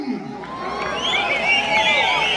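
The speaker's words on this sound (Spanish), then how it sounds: "quiero que le brinden un fuerte aplauso" Crowd at a town fair in Tarandacuao, Guanajuato, giving a sustained swell of cheering and whooping. The steady wash of voices carries faint applause underneath and rises slightly in the second half.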